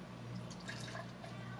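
Wild sour ale, Urban Funk from Area 2 Experimental Brewing, poured into a mug, a soft steady liquid splash and trickle lasting under two seconds over a low room hum.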